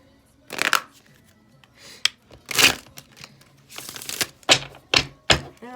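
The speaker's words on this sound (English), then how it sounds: "Okay, one more shuffle." Tarot cards being shuffled by hand at a desk, with bursts of riffling and soft slaps and thumps in irregular clusters, close by and moderately loud with no speech.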